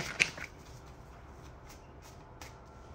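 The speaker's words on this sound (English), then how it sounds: "let's pull some cards from my Infinity Oracle" Oracle cards from an Infinity Oracle deck are shuffled and pulled, giving a brief riffle and snap near the start followed by soft, faint card rustles and slides, close and quiet with no talking.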